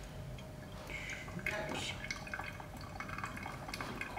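Water poured by hand from a kettle into ground coffee for a citrus coffee recipe with orange and lime, a soft liquid trickle and drip running steadily throughout beneath light kitchen clatter.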